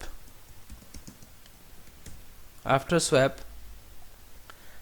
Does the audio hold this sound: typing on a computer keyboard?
yes